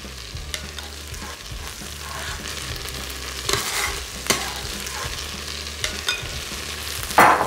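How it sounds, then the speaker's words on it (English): Beef sears in a pan in a Philips Premium All-in-One cooker, a low steady sizzle punctuated by occasional scrapes and knocks of stirring, without voices. "We do just want it to sear on the outside"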